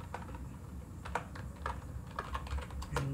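Quick bursts of keystrokes on a computer keyboard while code is typed, close and fairly steady, with no talking.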